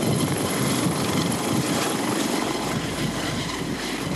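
A helicopter in flight gives continuous, loud, even rotor and engine noise throughout, with no voices.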